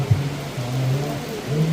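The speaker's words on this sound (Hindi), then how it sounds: "अभी बारिश बहुत ज़्यादा हो रही है" Heavy rain falls steadily at the Yamunotri temple in the mountains, a dense continuous hiss with a low rumbling undertone running throughout.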